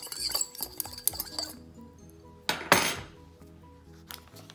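Ingredients for oven-roasted chicken are mixed in a bowl, with quick clinks and scrapes of a utensil against the dish, a louder clatter midway, then lighter taps, close and without talk.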